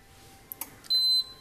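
A Moulinex Companion food processor is switched on and gives a single short, clear electronic beep, preceded by a couple of faint clicks in a quiet room.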